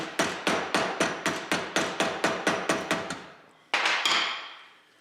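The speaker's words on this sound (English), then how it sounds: "Then you take your ball peen," A ball peen hammer striking a blunt chisel on a Model T Ford transmission part, ringing out in about a dozen sharp, evenly spaced metallic taps. After a brief pause, two more blows follow and fade away.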